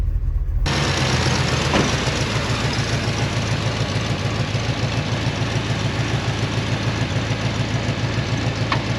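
A 1987 GMC truck engine, freshly fitted with a new water pump, idles steadily and loudly from start to end, a continuous low rumble with an even, slightly knocking pulse and no talk.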